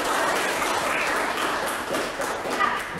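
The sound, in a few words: class applause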